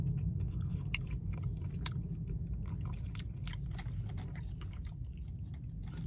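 Crisp crunching bites and chewing of Popeyes fried chicken, close and steady, with irregular crackles over a constant low rumble.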